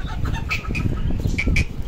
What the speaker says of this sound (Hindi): छोटी मुर्गी ने इतनी बड़ी मुर्गी को मारा।